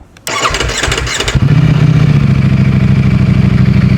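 A Ducati Streetfighter V4 motorcycle in race mode cranks briefly with a whirring starter, then its engine fires and settles into a loud, close, steady idle with a rapid throbbing pulse.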